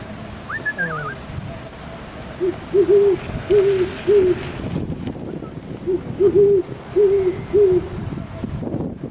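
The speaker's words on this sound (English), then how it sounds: "owl" An owl hoots in two clear bouts of four low, regular calls each, steady and moderately near over a soft outdoor background.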